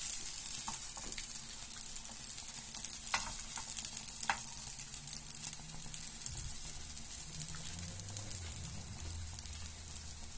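A potato and cheese galette sizzles steadily in a pan, a continuous bright frying hiss throughout with a few faint scrapes and taps underneath.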